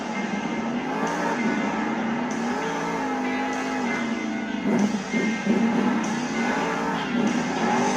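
The Son-uva Digger monster truck's engine roars and revs in a Monster Jam stadium in Anaheim, giving a dense, loud, continuous drone that surges in waves along with broad crowd noise.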